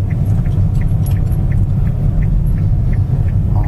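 A car rolls slowly over a bumpy, potholed road in the Simferopol district, with a steady low rumble, jolting bumps and a faint regular ticking in the cabin; no one speaks.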